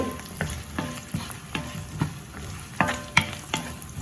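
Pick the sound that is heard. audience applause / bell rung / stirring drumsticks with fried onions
stirring drumsticks with fried onions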